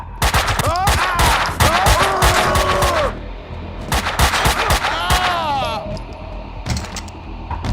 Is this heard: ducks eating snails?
no